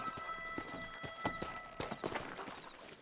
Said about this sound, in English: is this Rebecca, his horse, by the way